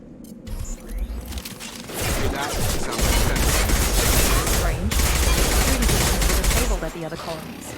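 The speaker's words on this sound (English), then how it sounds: "Shoot them before they take out your shield." Rapid bursts of gunfire in the Mass Effect 2 video game, dense overlapping shots and mechanical clatter building after a quiet start and continuing loud to the end, with spoken voices mixed in.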